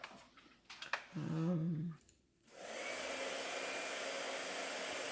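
After a few clicks and a brief tonal hum, a blow dryer switches on and runs with a steady, loud whooshing roar.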